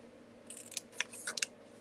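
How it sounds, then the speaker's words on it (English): Scissors snip paper during cardmaking, a few short, crisp cuts close by in a quiet room. "And so I'm going to cut this out."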